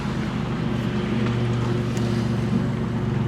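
A $350 1993 Chevrolet Blazer 4x4 on its first drive, prone to overheating, gives a steady droning engine hum with strong low tones and broadband road and wind noise, loud and constant from inside the cabin.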